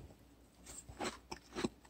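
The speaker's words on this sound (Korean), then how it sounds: "그리고 씹는 소리도 좋아요" Fried mealworms are crunched between the teeth in a few short, crisp bites, close to the microphone but quiet, with near silence between them.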